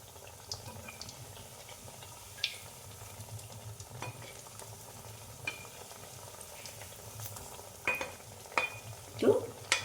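Flattened rice (chira) and semolina (suji) frying in a pan, a low steady sizzle with occasional spatula scrapes and small clinks, quiet and close.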